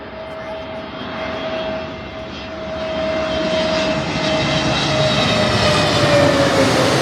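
A passenger airplane landing near Heathrow Airport roars steadily overhead, its engine whine building and growing louder across the whole stretch with a sustained tone sliding gradually downward, no voices.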